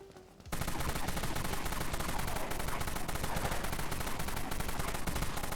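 Sustained rapid automatic fire from the X-Dusk AR assault rifle in the online zombie shooter Dead Frontier, loud and continuous after a brief quiet start, with dense overlapping shots and no talking.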